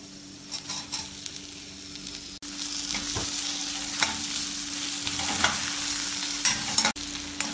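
Chopped tomato stir-fried with ginger, garlic and green chili for Kumbakonam kadappa, a steady oily sizzle with scraping strokes of a spoon against the pan, close and continuous, with a faint electrical hum underneath.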